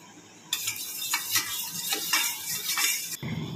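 Milk mixed with kewra water and a couple of drops of sweet attar is poured over chicken rezala in a pot, giving a close, steady wet rush with faint sizzling for about three seconds.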